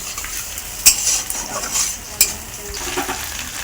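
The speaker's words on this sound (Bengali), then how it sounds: "এখানে বন্ধুরা পেঁয়াজটা লাল লাল করে ভেজে নিচ্ছি" Chopped onions fry in a pan until reddish-brown, giving a steady close sizzle with a couple of sharp spatula clinks against the pan and occasional stirring scrapes.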